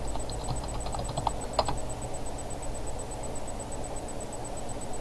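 Quick clicking keystrokes on a computer keyboard as a password is entered, a short burst of light taps early on over a steady low hum, no voices.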